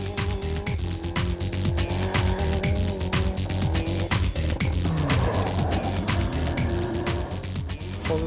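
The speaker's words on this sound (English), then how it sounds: "Didier Auriol and co-driver Denis Chiraudet plough through the gravel to give the engineers a clear idea of just how robust and powerful the Corolla really is." A Toyota Corolla WRC rally car engine roars continuously while driving over loose gravel, with crunching and spraying stones throughout, loud and close.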